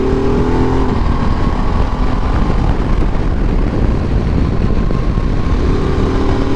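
A motorcycle in sport mode accelerating hard out of town, a loud continuous engine roar and rising drone with wind rush, steady and close throughout.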